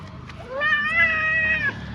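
A cat meows while being given a bath: one long, loud, drawn-out wavering meow close by, over a low background murmur.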